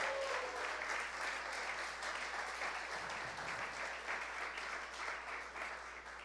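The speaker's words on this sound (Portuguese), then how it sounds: "Quem pode dar um aplauso a Jesus por isso?" A church congregation claps together in a continuous, fairly distant wash of applause that holds steady and eases slightly toward the end.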